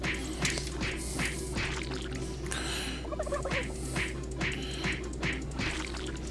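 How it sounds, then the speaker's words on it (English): Turkeys gobbling in the video game Doom 3, a run of repeated loud warbling calls that come one after another with short gaps. "enough punching turkeys"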